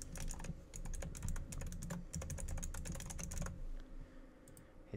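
Rapid, clicky keystrokes on a computer keyboard as an email address is entered into a WordPress pop-up form, a steady close burst of taps that thins out and stops near the end.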